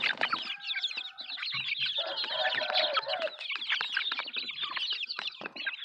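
Chickens cluck busily and continuously close by, overlapping calls forming a dense flock chatter with no talk.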